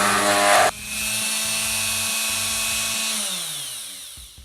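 A power sander works a wooden pedalboard: a sharp burst, then a steady, loud motor whine that holds for a few seconds before spinning down and fading, no talk.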